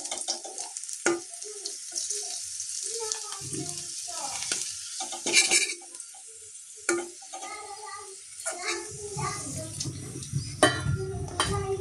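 Potatoes fry in a pan for an egg and potato curry, a close steady sizzle with frequent stirring scrapes and clinks of a utensil against the pan.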